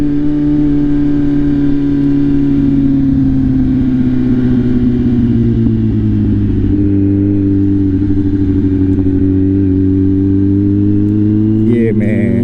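A Kawasaki Z900 motorcycle with its airbox removed idles and holds a steady rumbling drone, the engine note sagging slightly before settling, loud and close throughout.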